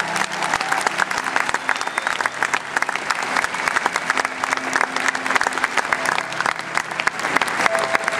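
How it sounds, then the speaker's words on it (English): A crowd at the Equidays 2011 night horse show breaks into loud, sustained applause, dense clapping filling the space without pause. "Give them a huge round of applause."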